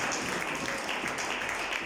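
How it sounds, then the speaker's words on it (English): A church congregation claps together, a steady wash of many hands at a constant level that sounds like sustained applause filling the room. "can you clap hands for the intercessors in this house?"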